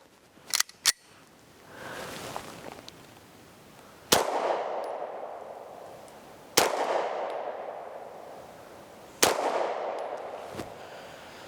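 Three sharp, loud pistol shots from a Beretta M9A4 firing 124 grain Fiocchi ammunition, spaced roughly two and a half seconds apart outdoors, each followed by a decaying echo, with a couple of quick handling clicks before the first.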